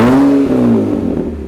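A Lada Zhiguli race car nicknamed Black Jack revs through its custom exhaust, a loud close engine note climbing and then easing back down in one brief burst.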